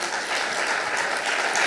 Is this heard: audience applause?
yes